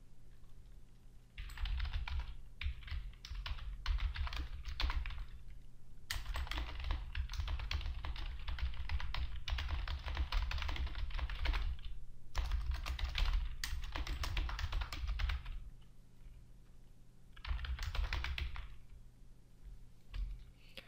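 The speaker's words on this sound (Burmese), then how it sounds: "စပြီးတော့ကျွန်တော်တို့စာရိုက်လို့ရပြီ" Typing on a computer keyboard while working in Photoshop: bursts of quick, close key clicks separated by short pauses, with a steady low hum underneath and no talking.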